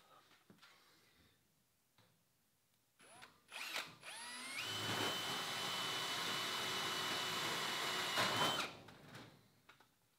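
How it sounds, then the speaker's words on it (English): A power drill whines steadily for about four seconds at close range, drilling into the belly pan of a 1966 Airstream Ambassador trailer, its pitch rising as it spins up, after scattered clunks and handling noises. "I can drill just into that"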